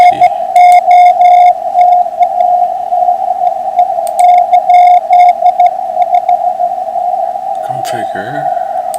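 An RTTY radio teletype signal received on a ham radio during a Sunday morning POTA hunt, a steady warbling data tone carried through the whole stretch, loud and continuous, with bursts of higher static and a brief squawk near the end.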